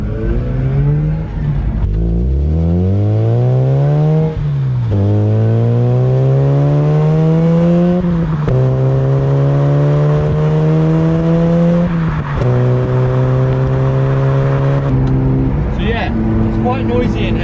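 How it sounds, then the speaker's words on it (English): Loud engine and road noise fill a stripped-out Mazda RX8 cabin on the move, the engine climbing through the gears in repeated rising sweeps with short shift breaks and occasional voice. "Quite noisy in here now. It's all stripped out. A lot more road noise."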